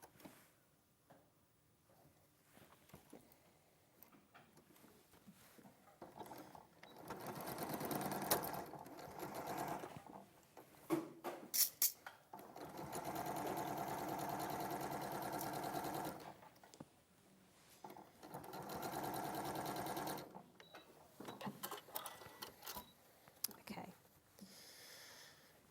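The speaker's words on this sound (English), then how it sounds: "Okay, so I'll quickly sew that." A sewing machine stitches a seam in bursts, running steadily for several seconds at a time with quiet pauses between, close and fairly loud, with soft voices in the gaps.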